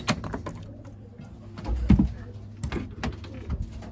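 Belgian racing pigeons shift and coo in a loft, with soft low coos and scattered wing flutters and taps close by, plus a faint thump. No one speaks.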